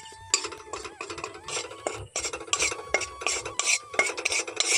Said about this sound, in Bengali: সেই কড়াইয়ের গরমের মধ্যে হলুদটাকে খুব ভালো করে ভেজে নিতে হবে